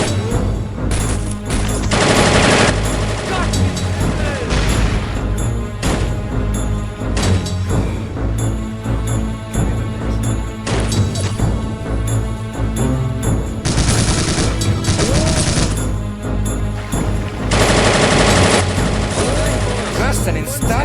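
Dense, continuous machine gun bursts and overlapping gunfire in the World War II strategy game Soldiers: Heroes of WW2, loud and close, with booms and clatter mixed in and voices speaking over the din.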